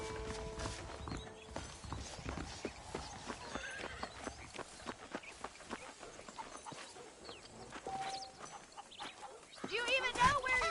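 Horses clip-clopping along with occasional neighs in the video game Red Dead Redemption, a steady rhythmic hoof patter under ongoing speech, with faint birds in the background.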